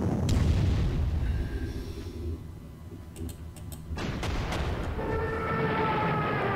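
Artillery fire and bombing in a World War II strategy war game set around Mount Etna: repeated deep booms and rumbling blasts, with a sharp cluster of impacts midway and a steady roar afterward.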